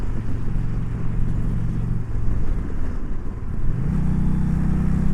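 A 2020 Indian Challenger Darkhorse motorcycle engine idles and burbles with a low, steady rumble, dipping briefly before the pitch steps up slightly, all heard up close with no talking.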